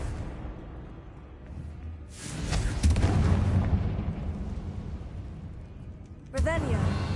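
A Confringo blast spell in a video game erupts as a deep, rumbling explosion that swells and slowly fades, followed by a second sharp burst near the end.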